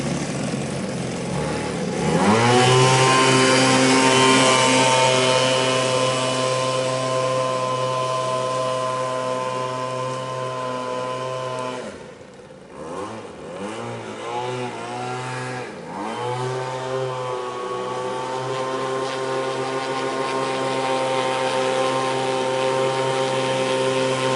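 A loud, steady jet boat engine drone holds near for most of the time on a river, dipping briefly midway before picking up again with a shifting revving pitch.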